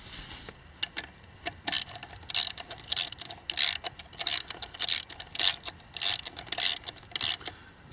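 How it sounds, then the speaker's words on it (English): Hub bolts on a 1962 Willys CJ-5 being tightened with a ratchet, a close, steady run of rapid clicking strokes repeating in short bursts about every half second, with no voices. "let's finish off putting the rest of the bolts in and we'll call it a job"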